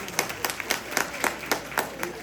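A small audience at an Eid talk show claps in a brief, rhythmic burst of separate, fairly close hand claps, with a murmur of voices behind.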